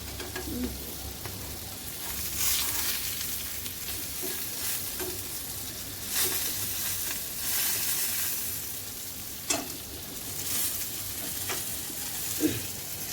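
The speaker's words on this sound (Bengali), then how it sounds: "পটল ভাজতে দিয়েছি পটল ভাজা প্রায় হয়ে গেছে" Steady sizzle of pointed gourd frying in a pan with occasional stirring scrapes, a few soft clinks, and faint bird coos in the background.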